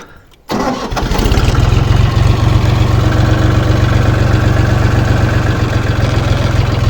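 A tractor engine cranks briefly, catches and settles into a loud, steady idle with a deep rhythmic throb.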